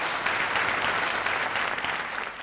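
An audience at a Tamil talk event claps for a guest, a dense sustained wash of applause that stays loud and even, heard alone with no speech.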